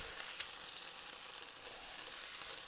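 Korean short ribs sear in a hot pan with a continuous soft, hissing sizzle, faint and steady with occasional tiny pops, and no talk over it.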